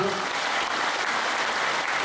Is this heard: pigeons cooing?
no